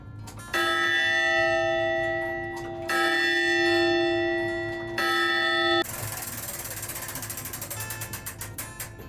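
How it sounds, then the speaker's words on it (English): A town clock tower bell in Madison, NC rings three long sustained strikes that hum and fade, then the clock's gears and ratchet clatter rhythmically close by. "we'll keep this clock running, and the bell is chiming."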